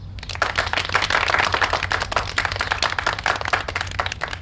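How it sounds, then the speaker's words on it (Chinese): An indoor audience applauds to welcome a public security section chief before his talk in a Chinese period drama, with brisk, continuous clapping from many hands, close and fairly loud, with no voices over it. "大家掌声欢迎"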